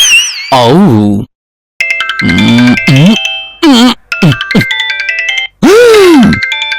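A phone ringtone for an incoming call, loud and close: a bright melodic tune plays in several phrases with short gaps, filling the whole stretch, in a Telugu TV comedy scene.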